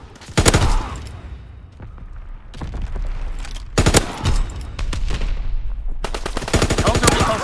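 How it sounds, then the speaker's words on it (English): Video-game fighter aircraft strafing run: loud bursts of rapid machine-gun fire in several volleys, separated by lower rumbling and blasts, with a faint voice underneath. "Fighter aircraft ready for strafing run."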